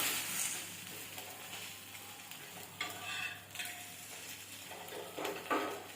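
Bottle gourd adai frying on a pan after being flipped, a soft steady sizzle with occasional light scraping and clinks of a spatula, quiet and without talk.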